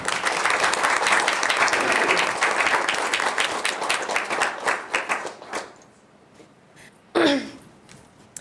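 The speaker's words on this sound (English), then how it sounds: "Can we have a round of applause for all of them?" Program graduates receive a sustained round of applause at a board of directors meeting. The clapping is loud and dense for about five seconds, then thins to scattered claps and a brief final burst.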